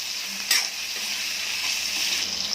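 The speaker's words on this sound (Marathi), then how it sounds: "थोडेसे परतून घ्यायच्या." Salted drumsticks (moringa pods) sauté in a pan with a steady close sizzle and a light stirring knock near the start.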